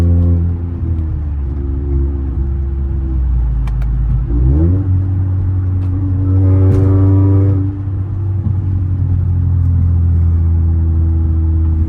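A catless Toyota Camry in sport mode accelerates hard through the gears in city traffic. Its loud, droning exhaust climbs in pitch, drops at a shift, then rises again, close and steady with no talking.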